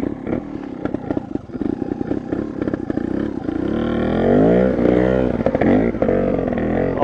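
A Vertigo Nitro 300 trial motorcycle engine revving low in second gear, starting with rough popping clatter and then smoothing into a steady, loud, low drone close to the mic.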